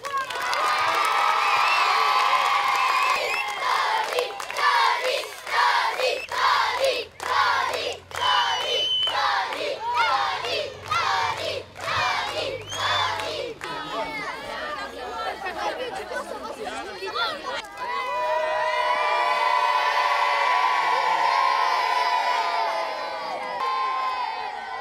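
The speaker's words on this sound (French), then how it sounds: "je vous demande d'applaudir et d'ovationner Tony Estanguet" A crowd at a children's village event cheers and shouts for Olympic champion Tony Estanguet, with loud chatter and whoops rising in bursts, rhythmic pulses midway, then a sustained roar of cheering voices.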